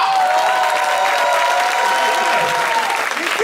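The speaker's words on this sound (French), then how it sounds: "Est-ce qu'on peut applaudir pour Tristan," An audience claps steadily throughout, a dense, continuous wash of applause from a crowd. No one speaks over it.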